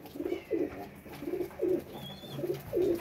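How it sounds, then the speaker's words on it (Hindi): Pigeons kept in cages coo in soft repeated low pulses, several throaty calls in a steady rhythm, close by and fairly quiet, with a faint chirp in the background. "कैसे कैसे केजेज में बैठे हुए हैं कबूतर, चेक करें ज़रा।"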